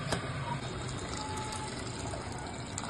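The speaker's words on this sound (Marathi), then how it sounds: "आता याच्यात मी पाणी घालून घेणार आहे" Water poured into a pot of chicken curry, thinned for a runny gravy, gives a steady, continuous gushing splash from start to finish.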